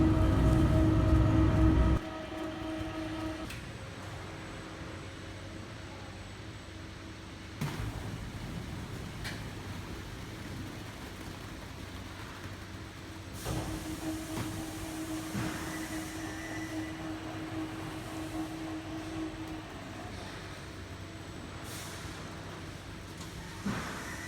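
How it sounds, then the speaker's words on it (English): Heavy industrial machinery drones steadily on an MgO board production line, where double-shaft mixers blend raw materials, with continuous low rumble, occasional clunks and shifts in tone, and no talking. "The mixers are double shaft, so it can keep the raw materials mixing very evenly"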